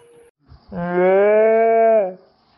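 A cartoon cow gives one long, loud moo in a dairy-milking scene. The call is steady and sustained and is heard alone, with no talk over it.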